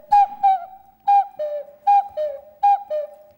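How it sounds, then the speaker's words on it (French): A small ceramic whistle blown in four paired two-note calls, bright and clear, evenly spaced like a bird call, nearby with no voices. "Donc ça fait genre appeau, genre sifflet. Là aussi, ça siffle."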